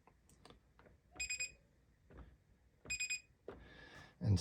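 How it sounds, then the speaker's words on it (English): A Maytag 2000 series dryer under repair gives two short bursts of rapid electronic beeps, each a quick run of three or four tones, with faint handling clicks and thumps around them. "And still a beep."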